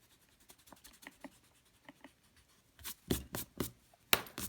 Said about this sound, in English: now I can erase my pencil lines